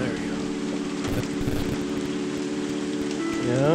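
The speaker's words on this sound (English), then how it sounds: "I mean, let me tell you, it is raining." Heavy rain heard from indoors, a dense steady hiss of drops on surfaces with a low hum underneath, continuous and fairly loud from start to end.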